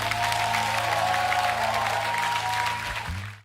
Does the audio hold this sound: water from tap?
no